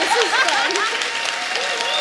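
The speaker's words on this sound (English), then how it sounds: "Let's give one more applause to these guys." Crowd applause fills the space while voices call out and chatter over the clapping throughout.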